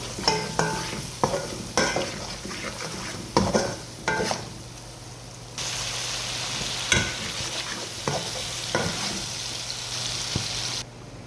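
A spoon scrapes and stirs through sizzling oil as curry powder is mixed into a frying Arabic dish, with repeated sharp stirring strokes over a steady close fry and a continuous hum beneath.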